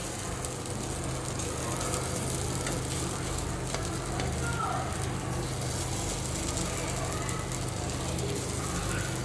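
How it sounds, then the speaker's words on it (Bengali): Lentil fritters, dal bora, fry in hot oil with a dense, steady sizzle and bubbling that carries on without a break, close and moderately loud. "তেলে বড়াগুলো এক এক করে দিয়ে দিতেছি।"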